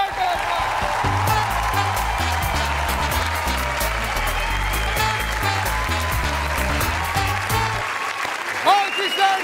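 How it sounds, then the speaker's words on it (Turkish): A studio audience on a Turkish comedy talk show applauds warmly, sustained clapping over a thumping music bed, with a host's voice briefly heard near the end. "Alkışlar Somer Sivrioğlu için arkadaşlar."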